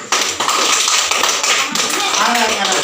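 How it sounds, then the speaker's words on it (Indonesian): A group of children clapping their hands together in a classroom lesson, a dense close burst of claps lasting a few seconds, loud and continuous. "Tepuk tangan dulu."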